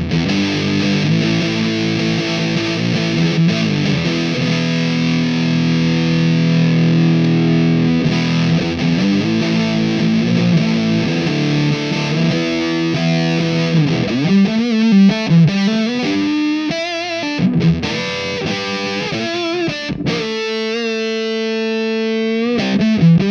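Electric guitar played through a JFET fuzz pedal voiced like a Big Muff, giving thick, sustained, heavily distorted chords and bending notes, loud and alone, with shifting tone toward the end.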